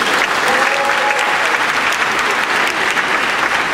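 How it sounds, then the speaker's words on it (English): A concert audience applauds at a live music show in Cape Town: steady, loud, close clapping with no breaks throughout. "So a big applause for you too."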